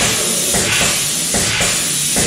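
Dinitrol 4942 Metallic underbody coating sprayed from a pump gun, a steady close hiss that pulses in three or four bursts without pause, with no voices.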